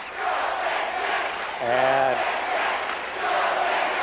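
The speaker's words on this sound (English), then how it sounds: "cheering "Go Big Jets."" Sterling high school basketball fans at a 1987 championship game cheer in a loud, steady arena roar, rising into a short chanted shout midway, while an announcer talks over it.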